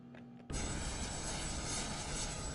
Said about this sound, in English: you can hear the APU running